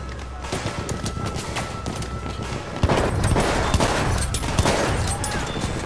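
Dense, loud gunfire from a Battlefield 1 match, a shotgun among rapid overlapping shots and distant fusillades that keep up without pause, with a heavier blast near the middle.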